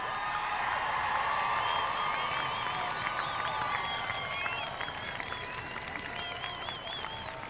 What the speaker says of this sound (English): Audience, let's give our graduates one last round of applause.